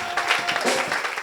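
Brief, dense applause rises from a church congregation during worship, close and fairly loud, with a few voices mixed into the clapping.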